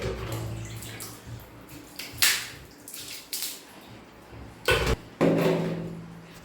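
Water is poured little by little onto bathroom wall tiles during a cleaning job with vinegar, heard as a few separate splashing bursts over a quiet room background with no talking.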